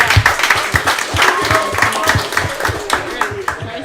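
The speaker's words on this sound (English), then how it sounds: "Clap it up for dad." A small group claps and applauds for a dad after praise for his chicken fried rice, a steady patter of hands at close range with voices talking over it.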